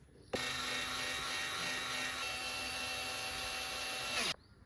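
A steady power tool runs for about four seconds, starting and stopping abruptly, as the big screws are driven into the right side of a Bajaj Pulsar 200 engine during assembly; loud, close and continuous, with no talk.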